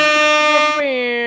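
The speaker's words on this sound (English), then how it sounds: "I'll give you a little air horn." Air horn sound effect blasting steadily for just over a second, loud and bright with a slight drop in pitch near the end, alone without talk.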